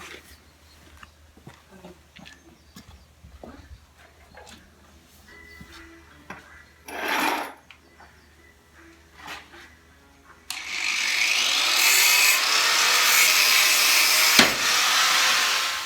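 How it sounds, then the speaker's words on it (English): Cutting through the U-bolts holding a Land Rover Series 1 axle: scattered clanks and tool handling first, then a loud, steady grinding whine of metal being cut that runs to the end. "I just need to cut the U-bolts and then the axle can come out"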